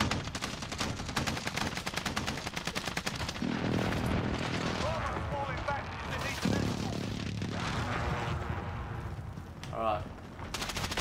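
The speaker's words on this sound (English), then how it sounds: "Precision airstrike." Precision airstrike explosions in the Call of Duty Warzone video game, a dense barrage of heavy blasts and booming gunfire rolling on continuously for about eleven seconds, loud and close with game sound effects layered in.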